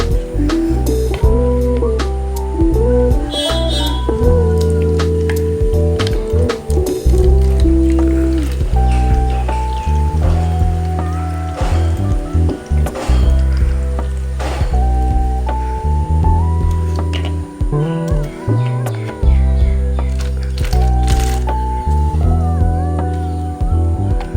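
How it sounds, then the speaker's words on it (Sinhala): Water is poured into a plastic bottle to fill a homemade water rocket, an intermittent splashing and gurgling that goes on for a long stretch under a steady tonal background. "මම මේ වතුර ටිකක් ගෙනා මේකට පුරව ගන්න"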